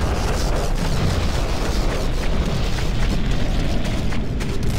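A GDI infantry barracks blowing up in the video game Renegade, a dense, sustained rumble of explosive booms and crackling debris that fills the whole span at steady loudness, with no voices.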